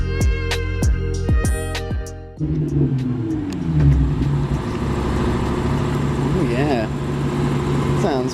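A Nissan 350Z with a muffler delete at a smog check station, the engine revving up and settling into a loud, raspy idle rumble close by, with brief tonal sounds beforehand.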